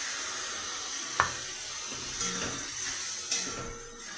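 Ground tomato, ginger and cumin paste fries in a pan with a steady, fairly loud sizzle, broken by a few soft clicks and taps of a utensil.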